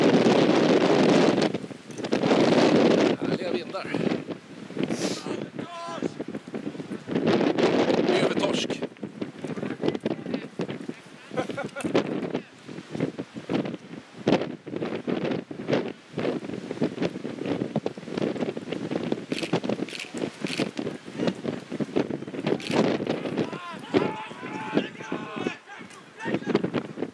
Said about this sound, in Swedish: Härliga vindar.